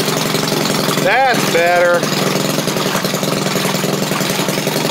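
A gasoline engine powering a Maytag washing machine idles steadily with a rapid knocking putter, close and loud, after its carburetor setting was off; someone speaks briefly over the running engine.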